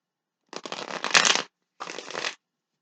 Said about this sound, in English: we're going to give them a couple shuffles